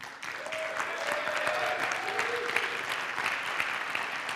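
Steady applause from a crowd, a dense wash of clapping that holds at an even level throughout, with a few faint voices mixed in.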